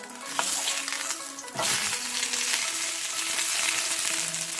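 Okonomiyaki sizzles loudly in a pan, and a stainless steel spatula flips it with one sharp scraping clatter partway through before the steady, bright frying hiss carries on.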